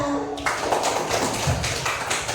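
A classroom of young children claps together for the first group, a dense burst of overlapping hand claps that begins after a brief pause and runs steadily, fairly loud and close.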